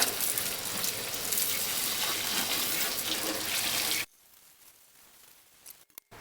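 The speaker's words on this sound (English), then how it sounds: "Okay, so that's the snow foam. I'm just going to wash it off now." Water sprays steadily onto the engine bay of a 1998 Ford Transit 2.5 DI, rinsing off snow foam as a loud, continuous hiss. It cuts off abruptly partway through, leaving quiet background with a few faint clicks.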